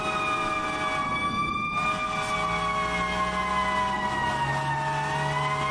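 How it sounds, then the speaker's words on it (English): A fire engine siren in Manhattan wails steadily throughout, its pitch slowly rising and falling, loud and fairly close with a low engine rumble underneath. "Makes the siren a little bit louder"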